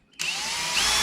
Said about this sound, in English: I always make sure to pre-drill on the ends.